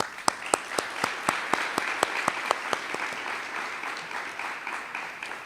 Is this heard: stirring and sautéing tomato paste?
no